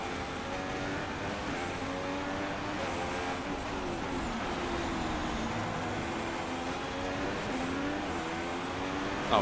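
Race cars in F1 2016 at the United States Grand Prix give a steady, moderately loud engine whine that shifts in pitch as they run on, with no talking.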